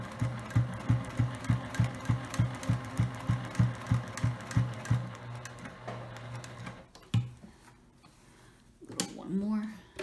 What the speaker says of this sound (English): now we're going to take it to the sewing machine and do the same thing